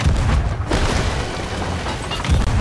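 Cannon fire in the pirate game Sea of Thieves, a heavy low boom with a long rumbling tail that fills the whole moment, loud and close, no speech.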